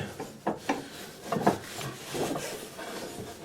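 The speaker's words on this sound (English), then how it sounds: "And now we should be able to ride the belt off of the pulley." Rubber auger drive belt scraping and rasping as it is worked off the pulley of a Toro Power Max snow blower, with a few close, soft rubbing strokes and light knocks.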